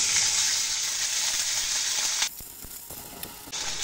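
Water poured onto onions and green chillies frying in hot oil hisses in a loud, steady sizzle that drops off sharply partway through, with faint clinks of a utensil, then swells again near the end.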